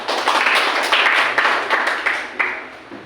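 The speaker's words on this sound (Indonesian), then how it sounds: "Tepuk tangan." A classroom group claps hands after a math group's presentation in a vocational high school lesson, giving short uneven bursts of claps close by with no talk over them.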